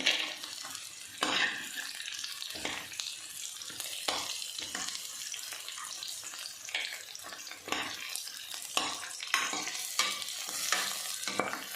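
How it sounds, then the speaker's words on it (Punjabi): Cashews shallow frying in oil in a pan while cooking palak paneer give a close, continuous sizzle with repeated stirring and scraping strokes and brief bursts of crackle throughout. "ਕਾਜੂ ਨੂੰ ਅਸੀਂ ਸ਼ੈਲੋ ਫਰੀ ਕਰਕੇ"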